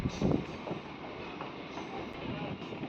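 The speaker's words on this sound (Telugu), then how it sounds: "మండవల్లి స్టేషన్ నుంచి మన ట్రైన్ బయలుదేరింది." Passenger train pulling out of Mandavalli station on a double-track line, a steady rolling rumble and rattle of the carriages heard from on board, with a faint voice murmuring in the background.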